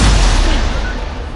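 Casting the Incendio fire spell in the Hogwarts Legacy video game produces a single loud, forceful burst that whooshes out at once, then slowly fades into a roaring rumble.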